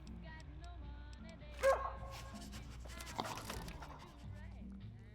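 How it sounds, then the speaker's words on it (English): A dog gun in the video game Fallout New Vegas gives a short barking yelp as it is drawn, brief and fairly faint, mixed with other game sounds and a voice talking. "But the dog gun makes a noise when we pull it out."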